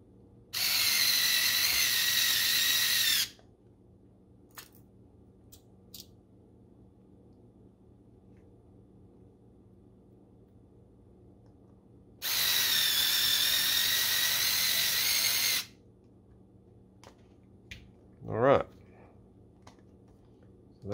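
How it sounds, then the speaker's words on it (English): Powered screwdriver driving screws into 3D-printed end pieces of an RC flatbed trailer, two steady whirring runs of about three seconds each separated by quiet handling, close and fairly loud. "Just put a couple screws in these end pieces."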